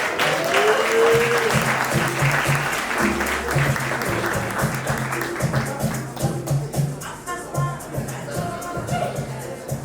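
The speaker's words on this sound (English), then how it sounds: "Round of applause for Abiola, please." A live audience gives a round of applause at an evening conversation event, dense clapping and crowd noise that is loud at first and thins gradually toward the end, with some cheering mixed in.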